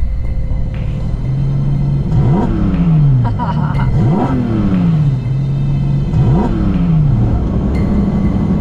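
A Porsche 718 Cayman GT4 RS engine revs hard again and again, each climb rising and falling in a loud, close, repeated rhythm over a steady rumble.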